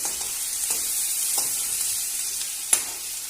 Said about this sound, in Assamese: তাৰ লগতে মই নহৰু আদা পেষ্ট দিছো এই চামুচে চামুচ অলপ অলপ দি আমি ভাজি লম